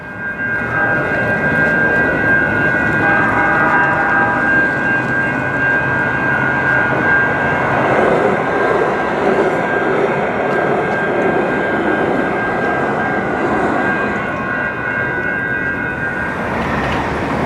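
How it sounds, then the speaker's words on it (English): A Los Angeles Metro A Line train passes in the distance, heard as a loud, continuous rumbling roar with a steady whine on top for many seconds, with no talking. "So I can hear off in the distance, that is the Metro A line."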